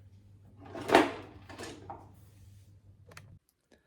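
A kitchen drawer opens or closes with a sharp wooden slide and knock, followed by a few softer clunks and faint rattles, all close by and with no one talking.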